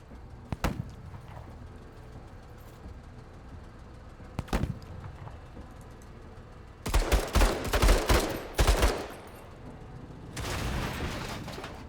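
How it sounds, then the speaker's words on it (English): Pipe guns firing in the video game Menace: a few isolated sharp shots early on, then a heavy clustered burst of fire and a final sustained rattle, with no voices. "the pipe guns sound a lot heavier than they are"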